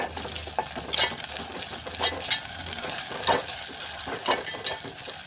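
Onions with ginger garlic paste being stirred in a frying pan for fish curry, giving a steady sizzle under repeated scraping, clinking utensil strokes, close up and without talk.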